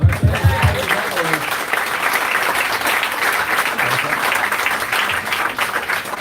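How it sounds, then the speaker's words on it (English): An audience at a coffee house campaign event with Andrew Yang applauds in a dense, steady wash of clapping that carries on for several seconds, with a voice speaking briefly at the start. "Let's give him a round of applause."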